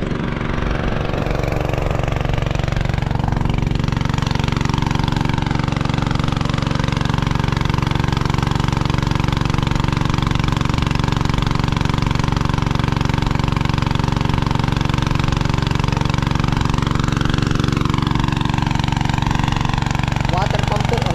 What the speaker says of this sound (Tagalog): Water pump po ang ginamit.